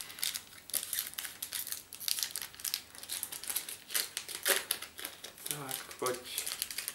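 A Pokémon card pack wrapper from a Venusaur EX box crinkles and rustles in quick, irregular bursts close by as it is torn open and handled, with a person talking over it.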